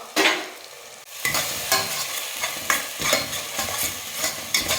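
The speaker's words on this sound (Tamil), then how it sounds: "அதையும் சேர்த்து ஒரு 2 நிமிஷம் வதக்கிக்கலாம்" Thick paste sizzles and is stirred in a pan, with repeated scraping strokes of a spoon against the metal, close and fairly loud.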